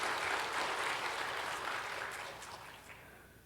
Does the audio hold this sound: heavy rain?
no